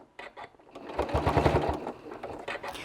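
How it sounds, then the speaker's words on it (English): A sewing machine stitches a fabric ice cream cozy, its needle turned slowly by the hand wheel, giving a short, quiet run of mechanical whirring between soft clicks, with no voices. "use that hand wheel to crank down and walk that needle"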